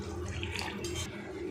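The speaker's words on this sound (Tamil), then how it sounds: "இப்போது 1 கப் அளவுக்கு அதில் தண்ணி சேர்த்துக்குவோம்." Water poured into a potato and capsicum gravy with masala in a cooking pan, a steady close splashing pour lasting throughout with no talk over it.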